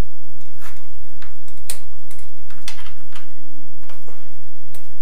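A wrench works the fork clamp nuts on a 250 TE motorcycle, giving a few sharp metallic ticks and clicks spread irregularly across a few seconds, close up, over a low steady background hum.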